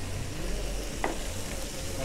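Burger meat frying in a pan gives a steady broadband sizzle that runs throughout, close and constant, with a few faint background murmurs and no clear speech.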